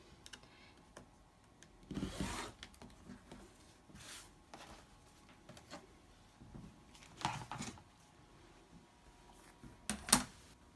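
Quilt block fabric being cut to a 10-inch square, with a few quiet, brief bursts of cutting scattered over low background, close by and faint.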